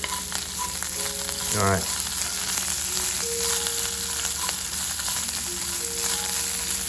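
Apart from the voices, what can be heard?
food sautéing in oil in a pan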